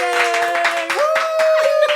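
An audience claps for a singer at a talk-show interview, a brief burst of applause rhythmically patting over a sustained tonal background of music.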